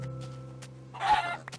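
A Minecraft chicken gives a short burst of clucking about a second in, heard over a steady low game background hum, with a brief second squawk just after.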